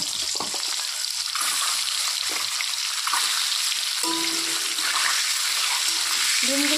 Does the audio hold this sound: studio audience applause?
no